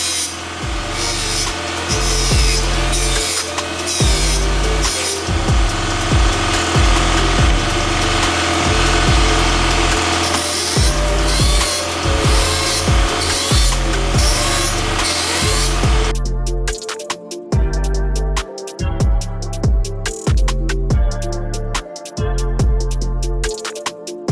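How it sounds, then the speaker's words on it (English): A power grinder cuts down plastic grille mounting pegs on a third-generation Toyota 4Runner, a loud continuous rasping whine with rapid chattering pulses that breaks into choppier bursts near the end. "We'll just have to grind this down, shorten it up a little bit"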